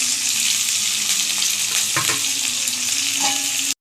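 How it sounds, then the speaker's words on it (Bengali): Dry red chilli, bay leaf, nigella seeds and onion frying in hot oil, a loud continuous sizzle with occasional stirring clatter, ending abruptly. "এই তেলের মধ্যে ফোড়নটা দিয়ে নিচ্ছি। শুকনো লঙ্কা, তেজপাতা, কালো জিরে, পেঁয়াজটা দিয়ে দেবো।"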